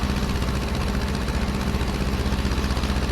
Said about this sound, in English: That is such a cool little tractor, just diddling on down the road like that.